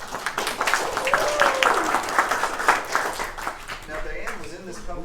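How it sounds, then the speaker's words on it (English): An audience applauds a guest lecturer at a talk, scattered soft clapping running under a speaking voice throughout. "would you quietly but warmly cheer on Diane as she comes"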